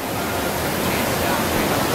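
A dense, steady rush of falling water, like a waterfall heard up close, filling the whole moment without pause.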